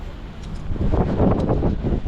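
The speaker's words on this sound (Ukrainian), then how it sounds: "Бачите, такі вітрюги." Strong gusting wind buffets the microphone outdoors, a loud, close, rumbling roar that swells and surges over about two seconds.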